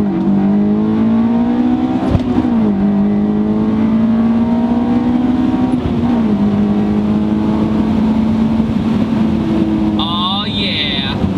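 A Honda S2000 AP2 sports car accelerates hard in first gear, its engine note climbing steadily and loud from inside the cabin, with quick shift dips, and a voice speaks briefly near the end.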